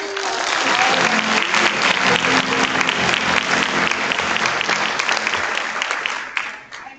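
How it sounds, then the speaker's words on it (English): Sustained applause from a large event audience, steady and dense clapping throughout before tapering off near the end. "can we please give them one more round of applause?"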